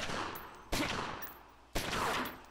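Gunshots in the turn-based game Omerta: City of Gangsters, two sharp cracks about a second apart, each trailing off in a decaying echo, with no voices.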